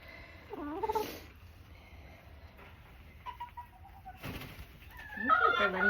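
A hen makes a few soft clucks and short calls close by in a quiet space, with gaps between them and some faint handling noise.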